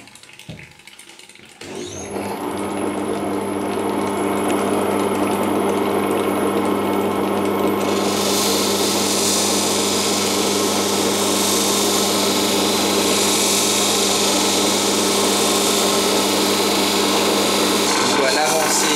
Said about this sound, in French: La suite, le polissage au grain 280.